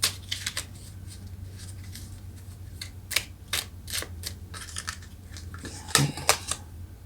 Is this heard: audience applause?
no